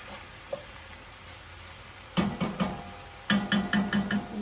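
Chili ingredients sizzle in a hot pot, quiet at first and then stirred in two bursts of scraping strokes, each set of rhythmic stirs rising over the steady frying hiss.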